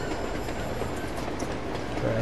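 In Uncharted: Among Thieves, a moving train rumbles along with clickety-clack wheel noise and rattling carriages, a continuous mid-level roar.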